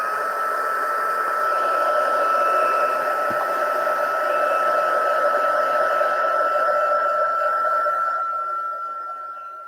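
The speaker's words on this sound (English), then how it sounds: "I'm going to heat up my heat tool. This is going to get a bit noisy" A heat gun warms up ahead of embossing cardstock, giving off a loud, steady blowing whir that holds constant for several seconds and then fades slightly near the end.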